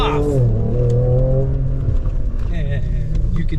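A 2024 Ford Ranger Raptor engine in Baja mode pulls hard under acceleration, a loud, steady drone with rising engine tones heard from inside the cabin.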